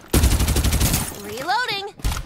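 Gunfire in the video game Farlight 84, a loud rapid automatic burst for about a second, followed by a voice speaking over the fading shots.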